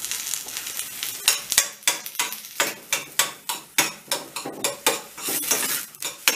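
Onions sizzle in a pan with a little liquid for minced-meat börek, stirred with a utensil that knocks and scrapes the pan in quick rhythmic strokes, close and clear.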